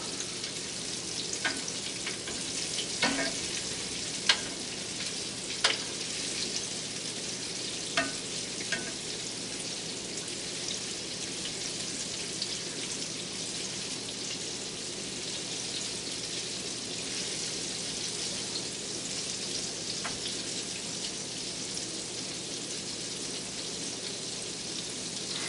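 Smoked salmon balls fry steadily in hot oil, giving a continuous dense sizzle with occasional sharper pops and crackles. The sound is close and unbroken for the whole stretch, with no talking.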